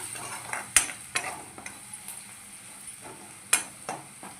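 Garlic, curry leaves and green chilies sizzle in hot oil for besan jhunka, a steady close frying hiss broken by several sharp spoon clinks and scrapes against the pan.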